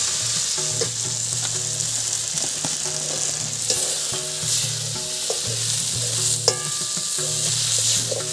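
Ground turmeric, chilli, cumin and coriander fry in oil in a wok with a loud, steady sizzle, and stirring scrapes and clinks sound against the metal.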